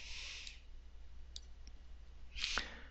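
Soft, close computer mouse clicks in a quiet room, a quick pair of faint taps followed by a sharper click near the end.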